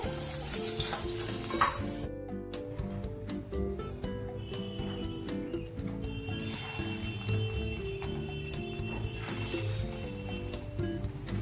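Fish roe fries in a pan over a low gas flame, making a steady, fairly faint sizzle dotted with small pops and ticks that continue throughout.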